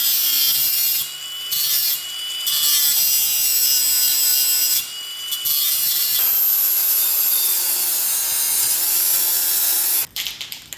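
A drill grinds steadily through metal, a loud continuous whine broken by short pauses, then it stops abruptly near the end.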